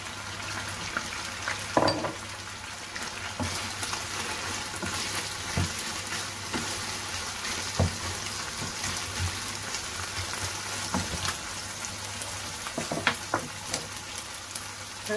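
Chopped onion frying in a pan, giving a continuous crackling sizzle with occasional sharper pops and a few spatula scrapes, steady and close, with no one talking.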